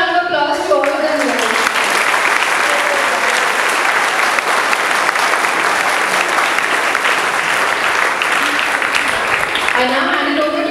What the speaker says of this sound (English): A big round of applause to all of them.